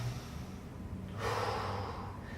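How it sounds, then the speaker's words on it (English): Steady breathing while holding a side plank, soft and close, with a stronger, breathy exhale about halfway through. "take 3 to 5 breaths"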